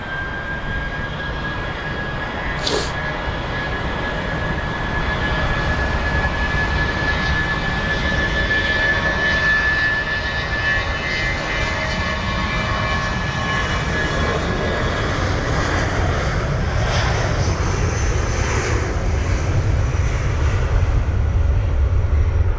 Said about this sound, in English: And that looks like an A319 based off of first impressions.